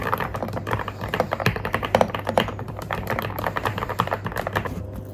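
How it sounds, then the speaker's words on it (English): Typing on a Yunzi Cake Cat mechanical keyboard, a close, steady run of crisp clacking keystrokes with uneven rhythm and a few louder taps, heard alone. "This is the Yunzi Cake Cat keyboard"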